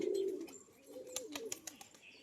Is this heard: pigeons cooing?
yes